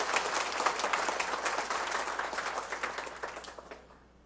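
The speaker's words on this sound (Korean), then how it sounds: "큰 박수로 환영해 주시기 바랍니다." A church congregation applauds a welcome with warm, dense clapping that holds steady, then thins out and fades to a few last claps.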